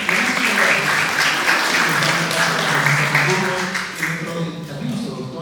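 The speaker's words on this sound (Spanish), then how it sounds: "Gracias por los aplausos" An audience applauds loudly and continuously in a hall, a dense wash of clapping that fades slightly toward the end, with a voice speaking over it.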